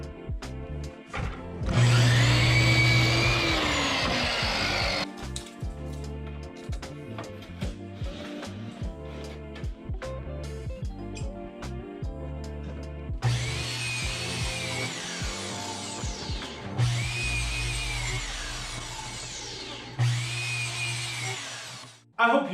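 A miter saw fitted with a stop block system slices through wood in several separate cuts, each a loud rising whine that spins down, over steady background music.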